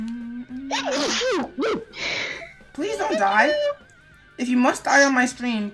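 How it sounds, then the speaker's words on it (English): A single sharp sneeze during a livestream of the game Flybits: Flight-Ki, bursting out between stretches of a streamer's talk. "Cause you sneezed."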